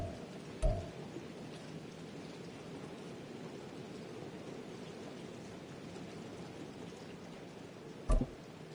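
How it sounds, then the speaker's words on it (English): Steady, faint rain patters continuously at a football game, a soft even hiss with two brief sharp knocks, one early and one near the end, and no voices. "The rain set to continue as we are underway in the second half."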